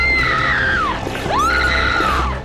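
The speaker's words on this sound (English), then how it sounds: "This is a scream queen scream right here." A woman's piercing, sustained scream from a Star Trek: Enterprise episode, rising in two long wailing arcs with a brief catch in the middle, loud and close over a low hum.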